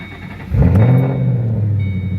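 A 700 WHP Ford GT500 engine cranks and fires up abruptly, settling into a loud, deep, rumbling idle that holds steady close by.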